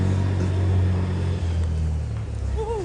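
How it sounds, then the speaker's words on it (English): A Fox army reconnaissance vehicle, crewed by Territorial Army volunteers of the Royal Yeomanry, drives in with a steady, loud, close engine drone and low rumble throughout, rising slightly near the end. "carrying the keys here is the Army's latest reconnaissance vehicle, the Fox"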